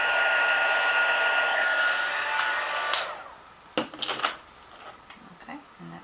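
A heat tool blows with a steady roar, melting a stamped design into the edges of a candle, then switches off, leaving a few close clicks and knocks.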